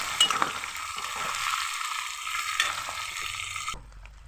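Chopped onions sizzling in hot oil as they fry toward reddish brown, a steady close crackle with light stirring scrapes that cuts off abruptly near the end, no voices.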